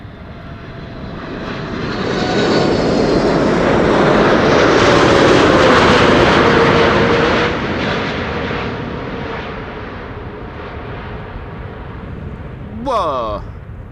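A Cathay Pacific Cargo 747-8 arriving from Dubai lands at Amsterdam Schiphol, a loud swelling jet roar passing at a distance and slowly fading, with a brief sharp sound near the end.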